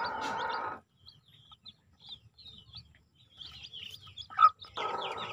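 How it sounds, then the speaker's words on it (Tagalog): Small chicks chirp in quick, high peeps with soft clucking from a barnyard brood whose mother hen has left the nest, a louder burst of fowl calls at the start and again at the end. "binabako na lang yung mga sisiw"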